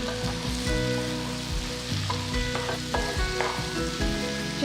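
Ivy gourd pieces frying in a pan while being stirred, a steady loud sizzle with scraping and clinking of the utensil throughout, close and continuous.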